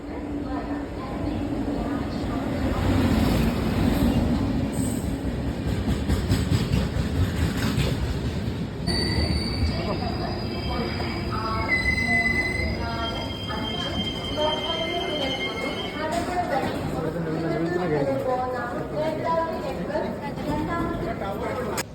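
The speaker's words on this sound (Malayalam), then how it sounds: "നേത്രാവതി എക്സ്പ്രസ് രണ്ടാമത്തെ പ്ലാറ്റ്ഫോമിൽ എത്തിച്ചേർന്നിരുന്നു" The Netravati Express stands at the second platform of a railway station, its long steady rumble carrying high squealing wheel and brake tones, with voices murmuring in the background throughout.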